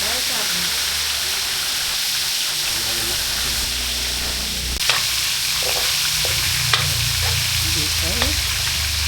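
Mixed vegetables for a Filipino amenudong gulay fry in a pan, a dense steady sizzle and hiss with occasional sharp pops and stirring clatters, close and loud.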